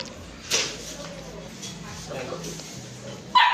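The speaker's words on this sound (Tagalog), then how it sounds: "Tapos meron din tayong ito mga Pomeranian natin." Pomeranian puppies at a pet market give a few short yips and whimpers, one sharp bark near the start and another at the end, over a low hum of background voices.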